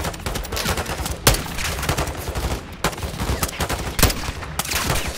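Gunfire in Call of Duty: Modern Warfare II, dense rapid automatic bursts with sharp individual cracks standing out, loud and close throughout.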